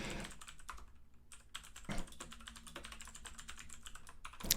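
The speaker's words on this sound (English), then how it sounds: "So I'll type it up real quick." Rapid typing on a computer keyboard, close and fairly quiet, with dense clicking keystrokes running continuously, a few brief pauses, and a heavier key press near the end, over a faint low hum.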